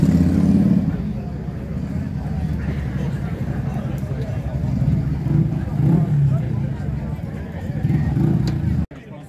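A Harley-Davidson motorcycle outside a busy roadside cafe gives a steady, close, low engine rumble for the whole stretch, with a faint murmur of voices around it before it cuts off at the end.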